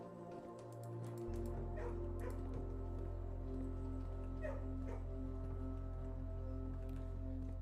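Dogs in the video game Blue Prince give faint, scattered barks and whimpers over a constant low electronic drone, with no one talking.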